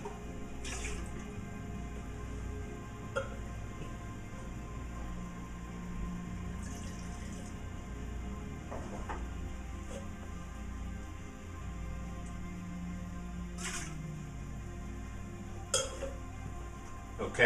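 Water runs into a wine glass being rinsed between tastings of Napa Valley Merlot, a steady soft trickle with a few clear glassy clinks and taps, close and quiet, with no talking.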